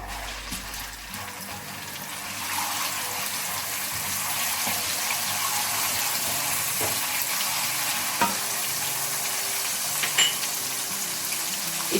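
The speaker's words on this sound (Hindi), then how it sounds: "जीरा हल्का सा फ्राई करने के बाद लहसुन डाल देंगे।" Cumin seeds and garlic sizzling and spitting in hot oil in a pan, a steady close crackle with occasional stirring clinks and no talking.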